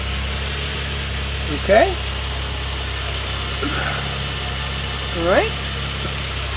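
2004-06 Nissan Maxima with true dual 2.25-inch DNA exhaust from stock headers, its engine idling with a steady low rumble throughout while someone speaks briefly twice over it.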